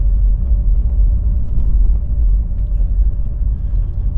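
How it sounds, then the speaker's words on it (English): Seat Ibiza hatchback driving along with its engine running, a steady low rumble and hum from inside the cabin, with no talk over it. "It's actually a nice smooth car really."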